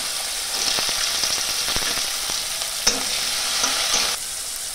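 Chopped carrots and beans frying in oil, a bright steady sizzle close by, broken by quick stirring taps and one sharp clack before the hiss drops off near the end; no voices.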